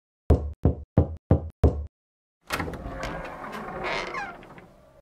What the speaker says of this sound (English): knocks on the door after that